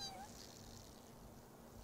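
Soft kitten meows from The Sims 3, faint and brief over a quiet ambient game background, alone without talk.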